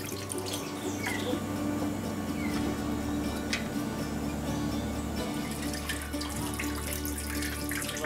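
Cold water runs steadily into a container used to cool pasteurized goat milk, a continuous splashing stream heard close and alone, with no talk.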